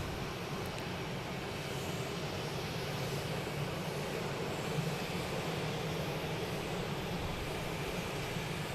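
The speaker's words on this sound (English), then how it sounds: "We got Avianca come around the corner" Avianca airliner taxiing at Boston Logan Airport, a steady broadband jet engine roar with low rumble that holds at constant loudness throughout, moderately distant, with no voices.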